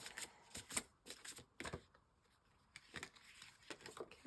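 Tarot cards are shuffled and drawn by hand in quiet, irregular bursts of riffling and slapping, each burst brief and close, separated by short pauses. No one speaks.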